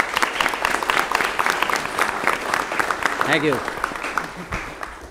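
An audience at a city meeting applauds in steady, fairly loud clapping throughout, with a voice speaking briefly over it.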